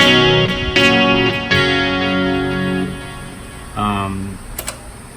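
Electric guitar chords played through a Kemper Stage with chorus ring out, shimmering and warbling, several strummed hits sustaining and fading, with a short picked note near the end.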